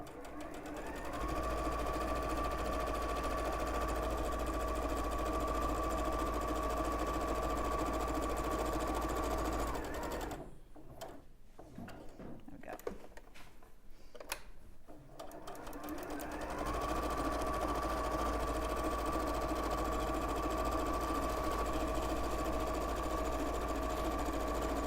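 A sewing machine stitches fabric in a loud, steady mechanical hum, stopping for several seconds in the middle while the needle stays down and the fabric is turned, then starting again at the same pace.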